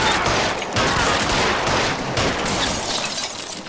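Dense, continuous gunfire from a shootout in L.A. Noire on PS4: overlapping shots form a steady loud barrage with no pause.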